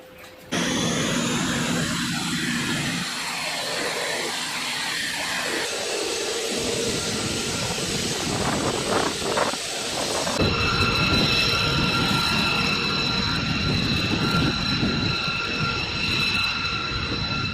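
A Northrop T-38 Talon jet trainer takes off at full power, a loud continuous roar with high whining turbine tones that swells partway through and stays strong to the end, with no voices.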